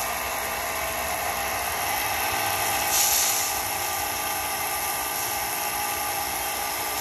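A Husqvarna PW 2000 electric pressure washer sprays through its soap nozzle with a constant loud motor drone and hissing spray. The sound swells briefly midway, then settles back to an unbroken steady roar, with no talking.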